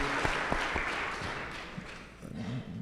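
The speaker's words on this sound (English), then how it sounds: "Give yourselves a round of applause" An audience at an EPIC event breaks into applause, a busy spread of clapping with a few sharp individual claps near the front that gradually thins out toward the end.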